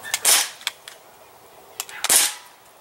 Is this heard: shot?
yes